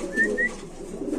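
Pigeons from a single loft at a market pigeon stall coo softly in a low, rolling murmur, with a couple of brief chirps over the top and no talk.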